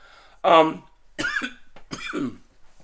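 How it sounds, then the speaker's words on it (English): A single sharp cough, followed by a few short throat-clearing coughs, close and fairly loud with no talk. "I'm trying to squeeze this video in, and I keep coughing."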